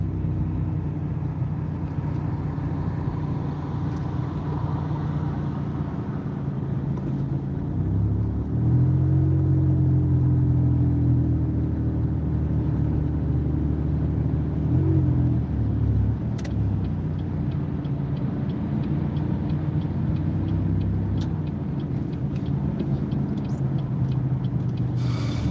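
Car engine during a driving-test practice drive, coasting off the gas toward a red light: a continuous low rumble and road noise inside the cabin, with a slight swell in the middle and no talking.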